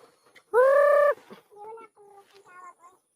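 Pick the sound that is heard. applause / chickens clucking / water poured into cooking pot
chickens clucking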